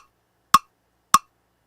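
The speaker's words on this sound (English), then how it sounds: "I'm going to put my clicker here down to 100 BPM on the quarter note" Metronome clicker set to 100 BPM on the quarter note gives two sharp, evenly spaced clicks, close and isolated against silence.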